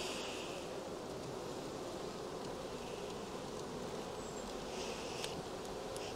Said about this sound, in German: Aber friedliche Bienen hast du auf jeden Fall.